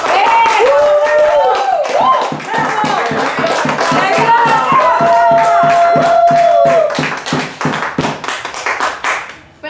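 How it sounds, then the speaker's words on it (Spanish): Audience applause, a thick burst of clapping hands that runs under a woman's speech, then thins into scattered separate claps and fades. "¡Aplausos!"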